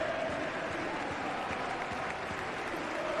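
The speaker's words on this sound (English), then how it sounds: "More appreciative applause from him to the fans, and they return it." Steady applause from a football stadium crowd during a Spanish La Liga match between Espanyol and Valladolid, a dense wash of clapping that stays even throughout with no voices over it.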